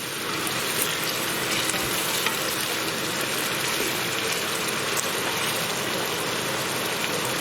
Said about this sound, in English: we're going to want to fry these now on a high heat because we want to get these all browned off and soft